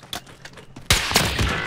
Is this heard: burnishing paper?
no